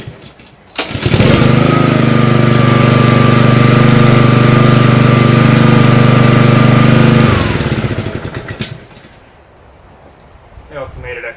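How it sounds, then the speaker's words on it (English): A 2016 Craftsman GCV-160 lawn mower engine is pull-started and catches, roaring loudly at a steady drone for several seconds before shutting off and winding down. "To start the GCV-160, you simply need to put this into the choke position and then pull here."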